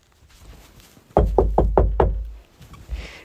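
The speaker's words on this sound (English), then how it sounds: "Suddenly, we hear a knock on the door." Five heavy, evenly spaced knocks pound on a door, loud and close, followed by a softer thud after a short pause.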